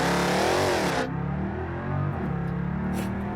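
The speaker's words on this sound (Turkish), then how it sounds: "Oyunun net en güzel seslerinden biri olan araba. Çok güzel ses var" A car engine in the driving game BeamNG.drive revs hard and loud, pitch sweeping up and down, then drops sharply after a second into a lower, rougher idle that swells again, close and alone without talk.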